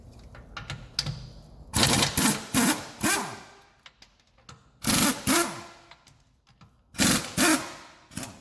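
An impact gun fitted with a 17mm socket removes bolts on a 2009 BMW 750i during rear hub work, firing in several loud rattling hammer bursts of a second or so, separated by short quiet pauses with small clicks.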